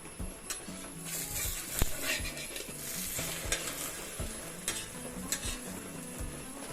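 An omelette fries softly in a pan over a low flame, a low sizzle broken by sharp spatula taps and scrapes as it is flipped.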